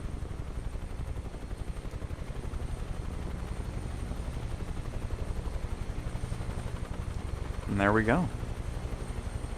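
An H225 helicopter in the game Microsoft Flight Simulator 2024, a steady rhythmic rotor thump with engine whine running throughout, loud and close, with someone briefly talking near the end.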